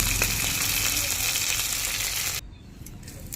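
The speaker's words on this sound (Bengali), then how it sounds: "মাছ ভাজা হয়ে গেলে তুলে নেব মাছগুলো" Fish sizzling loudly in hot oil for a fish curry with figs, a dense continuous crackle that cuts off abruptly partway through, leaving quieter background.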